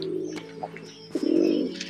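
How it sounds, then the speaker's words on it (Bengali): Pigeons on a rainy rooftop, nesting pairs among straw, give soft low cooing with a louder burst of coos near the end, close by and without talk. "এই হলো পায়রা"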